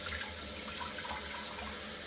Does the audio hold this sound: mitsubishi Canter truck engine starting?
no